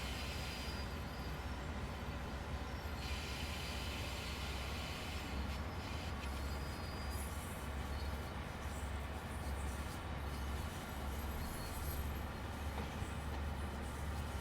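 A German regional train on the Maintalbahn in Train Sim World 4 rolls along with a steady, even rumble and a continuous hum from the cab, with no break in the noise.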